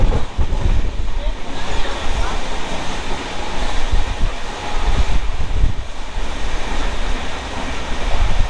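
A Howrah to Digha express train rumbles steadily from inside a nearly empty carriage, with low continuous rolling noise and faint rattling throughout.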